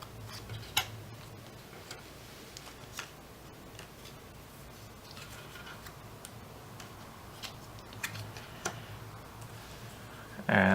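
Scissors cut paper pieces for 3D papercraft Koopa Troopa legs, heard as sparse, crisp, close snips and clicks spaced irregularly over quiet room tone, ending in a louder burst of paper rustle.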